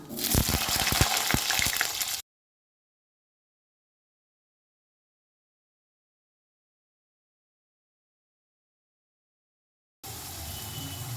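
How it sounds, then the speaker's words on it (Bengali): Cut potatoes hitting hot oil seasoned with black cumin, a dense loud sizzle for about two seconds, then dead silence, then a quieter steady frying hiss returning at the end. "দিয়ে দিচ্ছি কেটে রাখা আলু"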